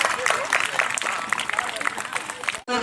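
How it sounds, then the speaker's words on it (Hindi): A gathered audience at a Savitribai Phule birth anniversary celebration applauds to welcome a guest, a dense, continuous patter of many hands that cuts off abruptly near the end, with voices mixed in. "ताली से स्वागत करें आप लोग।"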